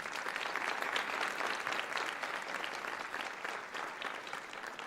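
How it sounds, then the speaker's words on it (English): An audience at a leadership summit applauds with steady, dense clapping that holds an even level throughout, without any voices over it. "Let's give them a round of applause."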